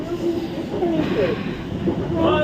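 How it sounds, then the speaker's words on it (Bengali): A train pulling away from a station, a low rumble and rolling clatter with squealing wheel tones, heard close and steady under a bustling platform atmosphere before cutting off abruptly. "দেখো আমাদের ট্রেনটা চলে যাচ্ছে"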